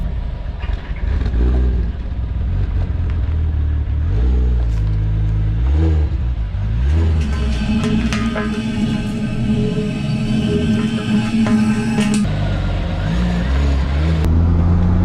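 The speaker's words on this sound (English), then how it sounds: "get the car on the road and see what happens" Engine of a drift car driving on the road, a loud, steady drone with repeated revs rising and falling, heard up close and alone.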